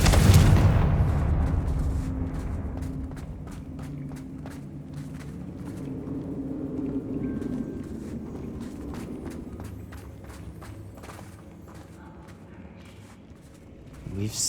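A Confringo blasting spell goes off in Hogwarts Legacy with a loud, heavy burst right at the start, then rumbling game noise and scattered footstep-like thuds that fade over the following seconds.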